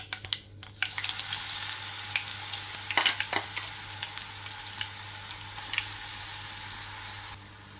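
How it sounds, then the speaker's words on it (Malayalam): Mustard seeds with crushed onion and chili sizzle and crackle in hot oil in a pan, a steady close frying hiss with sharp pops and a few stirring clatters, ending abruptly. "ഇതിലേക്ക് ഒരു ടീസ്പൂണ് കടുക് ഇട്ട് കൊടുക്കുക ഇതിലേക്ക് ഉള്ളിയും മുളകും കൂടെ ചതച്ച് വെച്ചത് ഇട്ട് കൊടുക്കുക"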